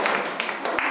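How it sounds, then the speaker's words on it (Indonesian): A class of students in an Indonesian classroom claps hands together, several bursts of brisk clapping rising over a steady room hum, close and moderately loud. "Tepuk tangan ya."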